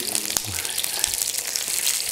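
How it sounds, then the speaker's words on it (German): Asparagus spears frying in hot oil in a pan, giving a loud, dense, steady crackle and spatter with scattered sharper pops throughout, close up and without talk. "Und jetzt werden wir uns noch einen Spargel dazu anbraten oder angrillen."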